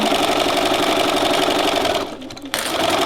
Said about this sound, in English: I'm just going to sew it straight down.